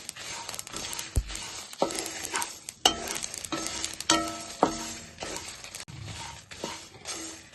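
Cumin seeds and dried red chillies fry in a kadai of oil, a low sizzle broken by repeated scraping and stirring strokes with small rattling clicks as the spices are tossed about, close and without speech.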